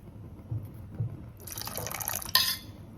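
Tamarind water is poured while bhel is being made, a thin splashing trickle into a container that starts after a couple of soft knocks, runs for about a second, and ends with a brief splash.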